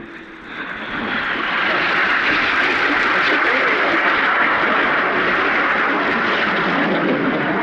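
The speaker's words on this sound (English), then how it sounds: "Each aircraft now turning hard away from each other, turning the boomerang into the slingshot." Red Arrows jets performing a display manoeuvre at an air show, a loud sustained roar of jet engines building then holding steady overhead, with faint commentary underneath.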